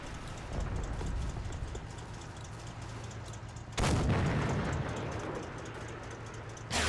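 Tank cannon fire from a Panther in the Combat Mission WWII game, a heavy boom breaking out over a steady rumble of engine and battlefield noise, followed by a second hit near the end.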